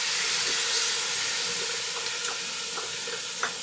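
Tomatoes tipped into a hot soup pot for a Tex-Mex pasta soup, giving a steady sizzling hiss with a few soft splashy knocks and stirring scrapes, fairly close and with no talking.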